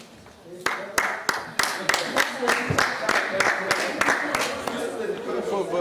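Scattered, modest applause at a closing ceremony: a run of separate sharp claps over a murmur of crowd chatter in a reverberant hall.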